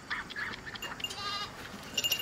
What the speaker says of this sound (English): No, Ellie, get away from the goat